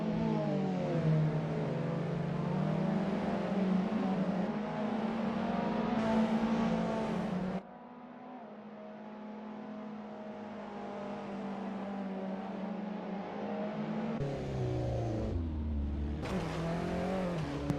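TCR touring race cars lap Oulton Park in a sim racing game, engines droning loud and steady with pitch shifts through gear changes and braking, several cars close together.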